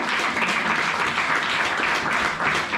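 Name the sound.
children applauding and cheering in church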